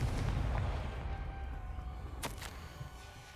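A Confringo spell explodes in Hogwarts Legacy with a deep, rumbling blast that fades slowly, followed by a brief sharp crackle.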